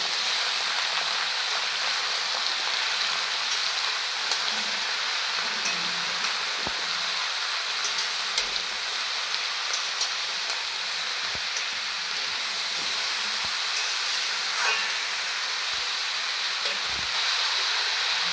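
Mixed vegetables tipped into a hot pan of oil hiss in a constant, rain-like sizzle, broken by a few soft knocks and clicks from stirring.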